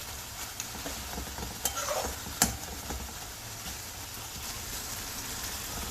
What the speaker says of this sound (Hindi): अब इस टमाटर को अच्छे से मिक्स कर लेंगे, इस तरह से मैश कर लेंगे।